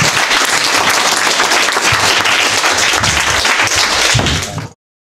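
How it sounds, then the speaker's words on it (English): Loud, close audience applause at hackathon pitches, dense steady clapping for about five seconds that cuts off abruptly. "All right, let's give them a round of applause."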